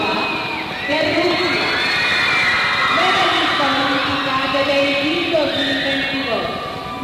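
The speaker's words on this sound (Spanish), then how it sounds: "y escuchen la ovación" Arena crowd at a figure skating event breaking into a loud, sustained ovation of cheering and shouting that stays strong throughout, with excited voices rising above the roar.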